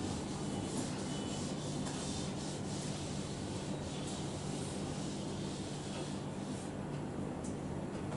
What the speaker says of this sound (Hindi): ओके चलो हम रब कर रहे हैं